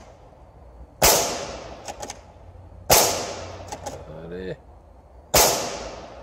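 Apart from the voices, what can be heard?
airsoft replica shots at 2 joules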